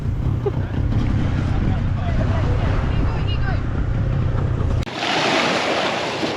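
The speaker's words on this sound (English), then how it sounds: "Waves are coming in the front." Ocean waves slap and wash against a small 3.5 m boat offshore, a loud, steady roar with heavy wind buffeting the microphone, then a sudden splash shifts into hissing spray.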